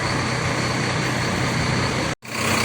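A Sinar Jaya Suites Class coach bus idles with a steady, low diesel drone and constant hum, briefly cutting out near the end before resuming.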